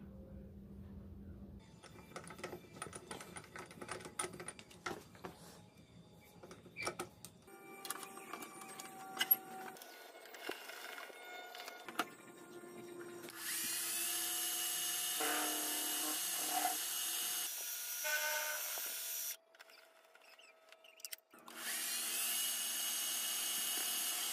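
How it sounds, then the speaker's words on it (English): A milling machine cuts an aluminum piece for a welded BMW shifter repair, giving shifting whines, intermittent cutting chatter and a later steady high-pitched machining drone with brief pauses, close and without speech. "So I'm going to machine that on the mill right now"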